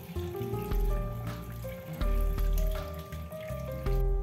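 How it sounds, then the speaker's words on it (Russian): Water runs from a tap into a cooking pot of cut potato chunks, a close, bubbly gushing pour with shifting tone as the pot fills, alone with no talk. "заливаю его водой."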